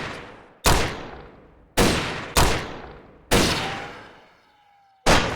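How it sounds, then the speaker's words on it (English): Gunshots ring out in an animated Wild West shootout, five loud sharp cracks spaced irregularly, each trailing off in a long echoing decay, with a faint ricochet whine after one shot; no voices. "Bullets flew, but when the dust settled, the Heartbreak Gang knew they were licked."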